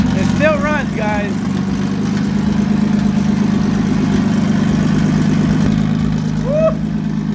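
A Nissan 350Z engine idles with a steady low exhaust rumble throughout, with a couple of short whoops of voices over it.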